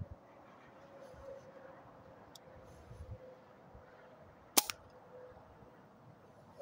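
A Hatsan Blitz air rifle fires one sharp, loud crack in the middle of a quiet room hum. The shot stands alone, with faint handling noises before it.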